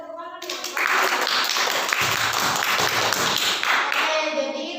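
A classroom group claps for a student, a dense patter of many hands that starts, holds steadily for several seconds and then fades.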